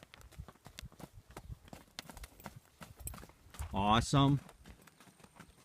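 Horse hooves clip-clop around an arena during a riding lesson, a loose rhythmic beat of thuds under an instructor's brief spoken encouragement, with a louder voiced burst near the end.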